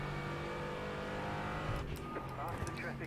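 An LMP3 prototype race car in a racing video game sweeps past, a steady engine drone that shifts pitch as it goes by, with chatter and speech underneath.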